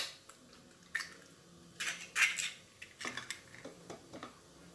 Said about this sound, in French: Après, je casse mes œufs.